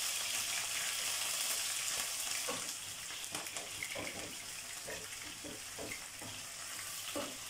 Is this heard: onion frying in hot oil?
yes